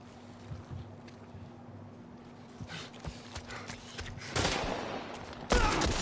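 Gunfire in The Last of Us Part I: a quiet stretch gives way to two heavy bursts close together near the end, loud and rough, set against a soft ambient bed.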